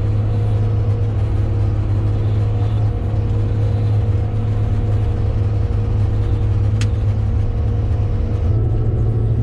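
A motor grader's engine works steadily on a municipal airport escape runway while levelling soil, a loud, constant close diesel rumble with no pauses and no talk.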